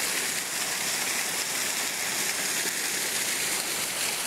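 Water pouring down a tall rock wall at a quarry, a steady broadband rush that stays even and fairly close throughout with no voices over it.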